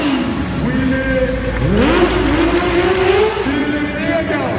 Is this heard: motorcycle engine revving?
yes